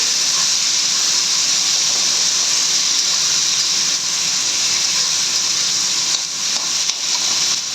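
Boiled banana flower mixture stirred in hot oil in a pan, giving a loud, steady, close-up hissing sizzle that carries on throughout with slight shifts in intensity.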